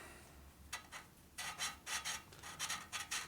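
A threaded part being unscrewed by hand on a 1972 Harley-Davidson Sportster 1000cc Ironhead engine, faint scratchy rasps in short bursts, quiet and close, no voices.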